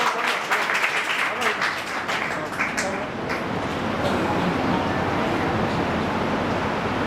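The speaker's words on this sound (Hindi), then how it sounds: "आप लोग ताली बजाते हैं।" Audience clapping at a coaching-institute ceremony honouring newly selected teachers, dense applause filling the whole clip, loud and close, fading into a steady broadband wash in the second half.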